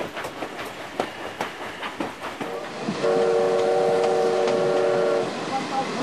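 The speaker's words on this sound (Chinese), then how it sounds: "珍貴呢種係蒸汽老火車嘅汽笛聲哈" An old steam locomotive whistle on a mountain rail line sounds one long, loud, steady tone for about two seconds. Rail noise and rumble run beneath and around it.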